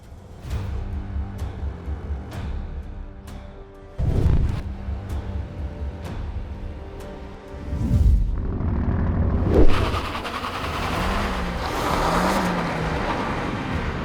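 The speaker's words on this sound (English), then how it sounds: "Oh, wheel spin into second. Oh, feel the power of the Suzuki Swift." A Suzuki Swift Sport and a Volkswagen Up GTI accelerate hard side by side in a drag race, engines revving and dropping through gear changes with wheelspin, loud and close without speech.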